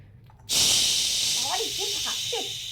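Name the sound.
onion stalks frying in hot oil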